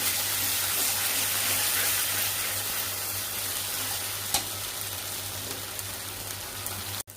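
Loud steady sizzling and hissing rise from a pan of veg Manchurian as cornstarch slurry goes in, a continuous crackle with a low hum beneath and a sharp clack near the end.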